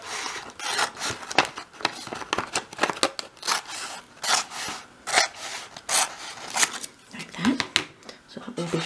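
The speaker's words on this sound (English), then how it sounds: "I'm just going to trim up there with my scissors" Scissors snip and rub repeatedly while trimming bulky fabric on a dolls house living room piece, a steady series of close, crisp cutting strokes with brief pauses between them.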